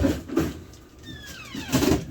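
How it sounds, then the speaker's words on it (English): A drawer of a beer fridge, once used for beer and now holding pork belly for homemade bacon, slides and bumps shut with a few short knocks and a scraping glide, close by and fairly loud. "We'll put it down in the drawer."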